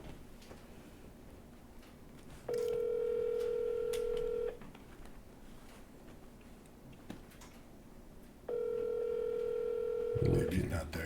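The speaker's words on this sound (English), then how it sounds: "We got him on speakerphone." A telephone call rings out over a speakerphone during a live broadcast, two long steady ring tones separated by a pause, with quiet background room noise.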